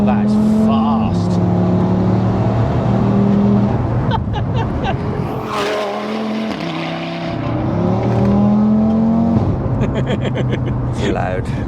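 A fully built 770 bhp Audi RS3 accelerating hard, its loud engine note climbing through rising gears with abrupt, savage shifts and crackles, heard up close from inside under occasional talk.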